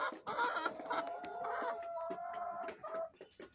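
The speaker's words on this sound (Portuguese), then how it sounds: "As galinhas já estão por lado de cá." Laying hens cluck and squawk in a newly built section of a chicken coop, a busy overlapping chorus of close calls with one drawn-out cackle running through the middle.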